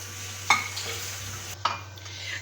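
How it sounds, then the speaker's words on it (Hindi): Vermicelli frying in ghee in a pan for sheer khurma, with a steady soft sizzle and two sharp utensil scrapes against the pan, close and alone. "उसी के अंदर मैंने 2 टेबल स्पून और घी लिया है और जो हमारी सवैयाँ हैं अब हम इसके अंदर इसको फ्राई"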